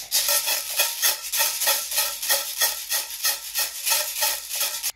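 Dry lentils (dal) shaken inside a Pringles can as a homemade shaker, a fast rhythmic rattling swish repeating about twice per second, loud and close, with no talking.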